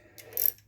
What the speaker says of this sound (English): get your socket, get it on the right way, undo it here